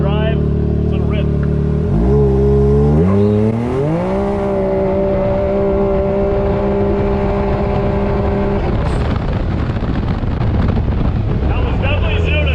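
A 2020 Can-Am X3 RR side-by-side in 4-wheel drive winds up hard under full acceleration, its loud, close engine rising in pitch through several gear changes with heavy wind buffeting.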